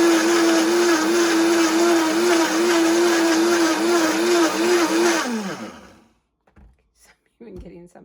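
A kitchen blender grinds dry spices with a loud, steady whirring hum for about five seconds, then winds down and stops, followed by a few faint handling clicks.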